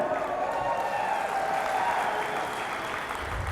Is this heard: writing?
no